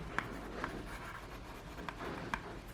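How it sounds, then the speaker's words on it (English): A stylus writes on a Threetrees 8.5-inch erasable LCD writing tablet, giving a soft steady scratch with a few light taps as strokes begin, close and quiet, no talking. "basically you use the pen to write"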